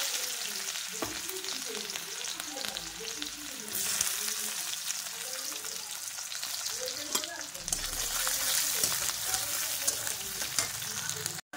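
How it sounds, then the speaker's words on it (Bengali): Chopped onions fry in hot oil with dried red chillies and cumin, giving a loud, continuous crackling sizzle close up that runs unbroken for several seconds. "আমি এখন কুচিয়ে রাখা পেঁয়াজগুলো দিয়ে নেব তেলের মধ্যে"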